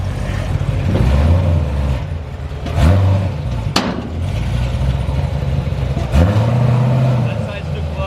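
A 1000 hp C7 Corvette Z06 on a dyno blips through several loud, low revving bursts over a steady background rumble, with the throttle bursts rising sharply and then settling.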